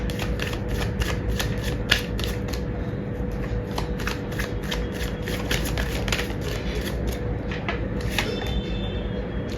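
Tarot cards are shuffled continuously in quick, crisp riffling bursts close to the ear, steady throughout against a faint background hum.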